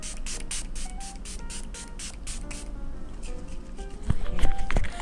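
A rapid series of short, close hissing spritzes from a spray bottle, followed by a few soft taps and handling noises.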